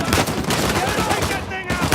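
Turret fire rattles in rapid, dense bursts during a firefight in Uncharted 4: A Thief's End, loud and close, with sharp repeated cracks filling the moment.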